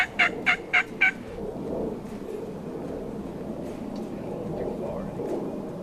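Four loud, rapid wild turkey gobbles burst out in the first second during a spring turkey hunt, followed by quieter outdoor ambience with soft rustling and murmured voices.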